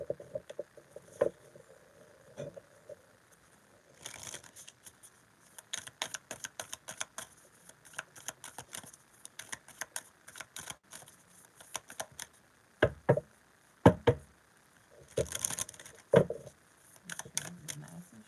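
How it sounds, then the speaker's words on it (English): Quick bursts of riffling and soft slapping from shuffled tarot cards, coming in irregular clusters, close and fairly quiet, with brief pauses between bursts. "This is nice and shuffled."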